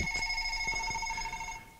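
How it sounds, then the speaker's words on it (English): A telephone rings in a home workshop during the overhaul of a 1963 Chevrolet Biscayne positraction differential, a steady electronic trill with pulsing tones sounding alone at moderate level for a couple of seconds. "excuse the phone call"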